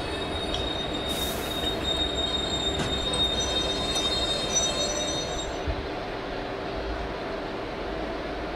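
Brakes squeal on a WAP4-hauled Avadh Express train in Indian Train Simulator, a loud, steady rail rumble carrying a thin, sustained high screech.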